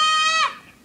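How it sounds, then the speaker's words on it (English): A dog barks once: a single loud, near, harmonic yelp that tails off into low background noise. "My dog and this random dog is just barking at my phone."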